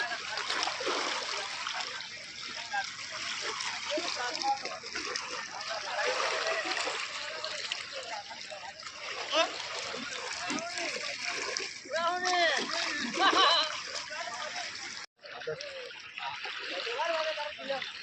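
Fast flood water rushing and splashing during fishing, a steady close wash of water with voices talking over it throughout.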